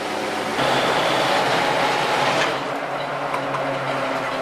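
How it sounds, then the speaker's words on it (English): Tire roar from a 1974 Ford Bronco rolling down the road, a broad steady hiss that swells partway through and then eases, continuous and fairly close. "Tires are a little noisy"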